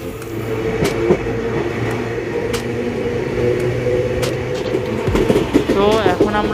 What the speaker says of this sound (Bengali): এখন আমরা ব্যারাকপুর স্টেশন ছেড়ে বেরিয়ে পড়েছি ও এখন আমাদের ট্রেন অগ্রসর হচ্ছে নৈহাটির দিকে